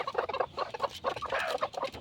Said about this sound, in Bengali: এখানে যে মুরগিগুলো আছে দেখেন আপনারা